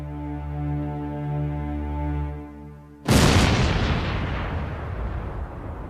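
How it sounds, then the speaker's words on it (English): After a low, steady droning hum, a single huge blast from Big Bertha, a First World War siege cannon, booms out close by, followed by a long rumbling decay. "Big Bertha, the world's largest cannon."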